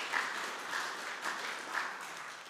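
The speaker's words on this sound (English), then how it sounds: "We can give them a round of applause, should we do that?" A church congregation applauding during a Sunday morning service, with soft, distant clapping that swells and fades in gentle waves.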